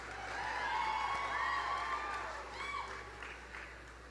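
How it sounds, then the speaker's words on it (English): Applause from a crowd of graduating medical students at a Match Day event, a sustained wash of clapping with scattered cheers that gradually tapers off toward the end. "I'm assuming that's all the women who are clapping."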